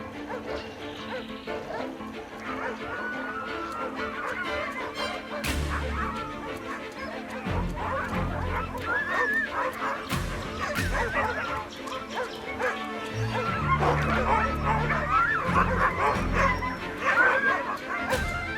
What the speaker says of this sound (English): Few people realize that domestic dogs are also hunters.